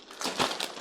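Protective film is peeled off the glass door of a new Creality K1 Max 3D printer. It makes a quick, close crinkling rip that lasts under a second.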